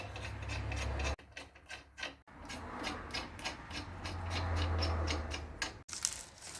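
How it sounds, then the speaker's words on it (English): Lug nuts being threaded by hand onto the rear wheel studs of a 2005 Hyundai Elantra, a run of close, rhythmic metallic scraping and ratcheting with brief pauses and no talk. "And start all the lug nuts."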